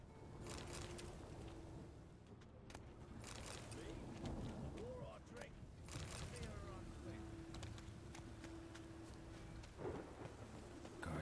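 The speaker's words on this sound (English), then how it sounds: "The storm, damn it." Thunderstorm with rain in the video game The Witcher 3: steady rain hiss with cracks and rumbles of thunder, heard faintly and mixed under other game sounds and voices.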